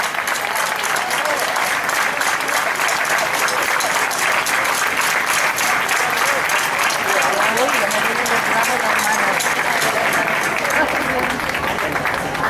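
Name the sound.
audience applause for the rondalla at a folk festival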